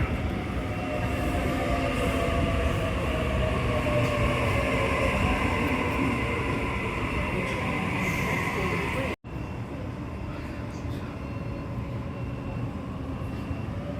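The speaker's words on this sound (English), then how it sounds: "we got train passing" A train passes through Flemington station with a loud, sustained rail rumble and a rising whine. The roar cuts off sharply partway through and then resumes at a slightly lower level.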